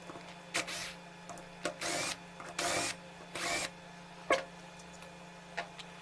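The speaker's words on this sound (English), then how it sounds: "these 3 screws. Let's open them." Screws being backed out of a car alternator housing, likely with a power driver: four short, loud whirring bursts with gaps between, then a few light metallic taps over a steady low hum.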